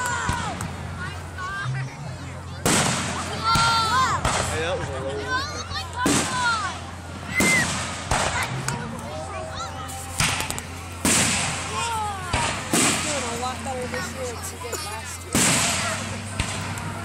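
Fourth of July fireworks over a lake in rural Illinois, a series of sharp bangs and crackling bursts spaced a second or two apart, with whistles in between and people chatting and cheering in the background.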